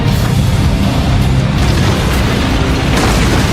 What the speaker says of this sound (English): Reiner is hiding inside his Titan to shield himself from Bertold's explosion